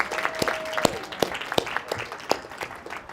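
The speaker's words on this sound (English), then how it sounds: "let's give a big round of applause for Tara" Sparse audience applause at a book interview event, scattered distinct claps at irregular intervals, fairly light and thin rather than a full ovation.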